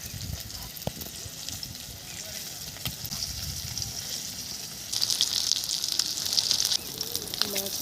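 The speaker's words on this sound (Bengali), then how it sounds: "মাছ হয়ে গেছে ভাজা" Thick pieces of latha fish fry in oil, a soft continuous sizzle that swells louder near the end, with scattered clicks of stirring in a quiet kitchen.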